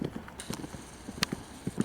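Horses' hooves clip-clop in an indoor riding lesson, a run of brief uneven thuds at moderate distance with sharper knocks in between.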